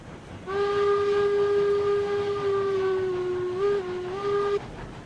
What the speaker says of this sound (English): Let the locomotive do her thing.